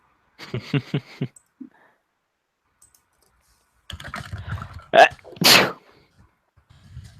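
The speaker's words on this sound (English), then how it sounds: "It's the worst feeling in the fucking world when you've been sitting there for like 30 seconds waiting for the stupid sneeze to come." A person sneezes loudly and close up, with a sharp intake followed by two explosive bursts, after a few clicks and short noises in an otherwise quiet room.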